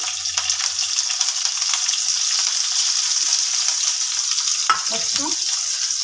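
Onion frying in hot oil for a spicy mutton fry, a loud, even hiss and sizzle close by that holds for several seconds with brief stirring scrapes near the end.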